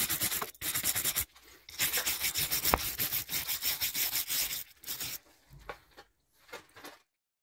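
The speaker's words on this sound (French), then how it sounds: "On va laisser refroidir le tube, on va passer le brosse métallique." Wire brush scrubbed hard over a freshly welded steel water pipe in a parking garage, rapid rhythmic rasping strokes in loud bursts separated by short pauses, close up with no talking.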